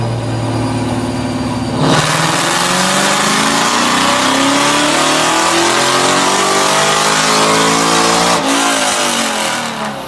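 A retuned 2001 Ford Mustang Bullitt making 520 rear-wheel horsepower revs hard and loud, the engine note climbing steadily over several seconds after a sharp start, then dropping off abruptly near the end, with no talking.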